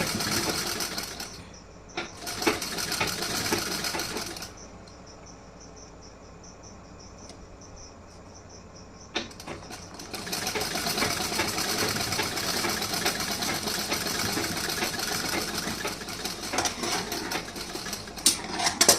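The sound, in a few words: sewing machine stitching a blouse sleeve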